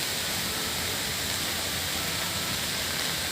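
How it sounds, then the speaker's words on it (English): Steady rain falls at Singapore Botanic Gardens near the welcome center, a dense, even hiss of drops filling the scene without a break and no voices. "rain started to fall."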